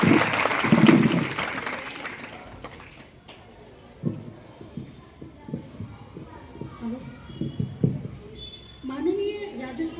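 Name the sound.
school audience applause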